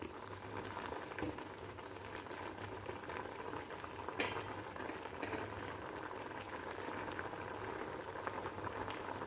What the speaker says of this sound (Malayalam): ചെമ്മീൻ നന്നായിട്ട് തിളച്ച് വന്നിട്ടുണ്ട്.